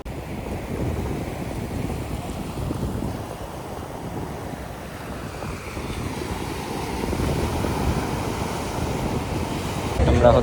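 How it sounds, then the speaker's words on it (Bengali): Big sea waves roll onto the beach at Cox's Bazar, a continuous low roar of surf mixed with strong wind buffeting the microphone, swelling slightly louder toward the end. "আর বিশাল বড় বড় ঢেউ।"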